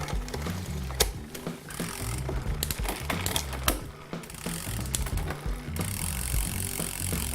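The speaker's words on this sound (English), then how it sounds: "I'm just going to change gear very quickly" Road bike drivetrain being shifted by hand: quick clicking of the derailleur and the chain ticking and whirring across the rear sprockets as the cranks turn, a busy close-up mechanical rattle with irregular clicks.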